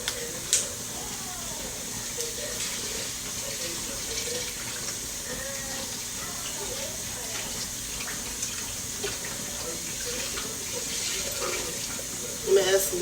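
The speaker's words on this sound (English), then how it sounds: "I'm gonna add some water to this." Steady hiss of water running from a tap into a pot of jambalaya, continuous throughout, with faint clinks and occasional voices in the background.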